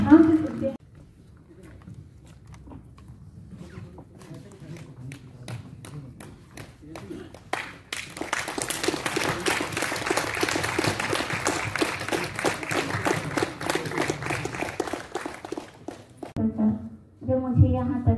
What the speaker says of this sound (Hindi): मैं चाहूंगी कि आप जोरदार तालियों से उनका अभिनंदन करें